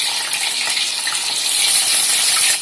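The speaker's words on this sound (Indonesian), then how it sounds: "Goreng ayam dulu ya." Chicken pieces fry in hot oil for a Manado-style dish, giving a loud, continuous sizzling hiss that holds steady throughout with no voices.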